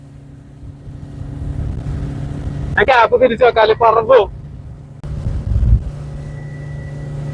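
A motorboat engine hums steadily on a dam reservoir with wind buffeting the microphone, while a person speaks briefly over it midway.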